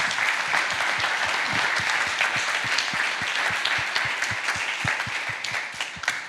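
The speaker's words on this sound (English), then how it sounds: "let's give them another big round of applause." Sustained applause from an audience honouring presenters at a reverse-pitch event, a dense steady wash of clapping with a few sharper nearby claps standing out, continuous and loud throughout.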